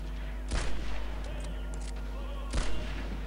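Two sharp, loud gunshots ring out about two seconds apart in the video game Medal of Honor Airborne, each followed by a brief echoing tail over a low steady game background.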